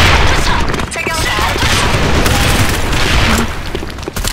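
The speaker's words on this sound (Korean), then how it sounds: "전방에 수류탄 투척합니다." Grenade blast in the Korean shooter Sudden Attack, a loud booming explosion amid continuous rapid gunfire and battle noise, dense and sustained throughout.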